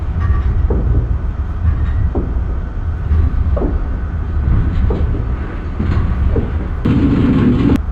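Amtrak Northeast Regional passenger train rolling fast on the New York to Washington line, a loud steady rumble heard from onboard, with rhythmic wheel clicks over rail joints roughly every second and a brighter burst of track noise near the end.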